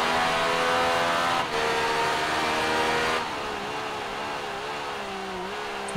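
A Yamaha motorcycle engine in Ride 3 drones loudly and steadily while riding through a tunnel, a continuous high-revving whine with slight pitch shifts and no pauses.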